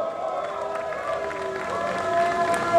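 A crowd lines the street at a 2017 bed race during Cathedral City LGBT Days, cheering steadily with a continuous murmur, scattered shouts and light clapping. The noise swells slightly toward the end.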